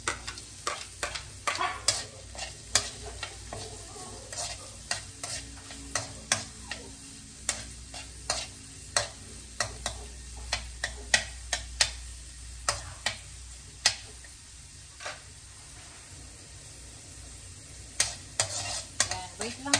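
Onions fry in a pan for a Filipino hardinera recipe, with a steady low sizzle under sharp scraping clicks from a utensil stirring at irregular intervals throughout, close by and without speech.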